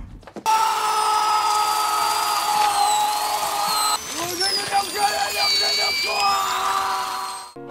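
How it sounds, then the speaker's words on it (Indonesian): A steady high-pitched drill whine from a film scene, a drill boring into a leg in a bathroom, runs continuously, wavering in pitch with brief strained dips partway through, loud and close. "Andre yang kesal langsung mengambil bor dan langsung melubangi kaki Matvei."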